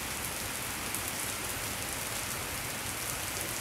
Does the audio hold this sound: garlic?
no